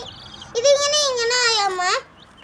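Chicks (dyed-colour baby chickens kept as pets) give a loud, sustained peeping call of about one and a half seconds, bracketed by faint high chirps and quiet background.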